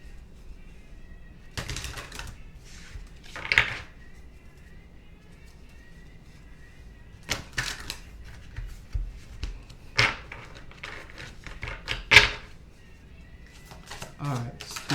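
Tarot-style affirmation cards are shuffled and drawn from a deck in several short bursts of riffling and flicking, spaced between stretches of someone talking close to the microphone.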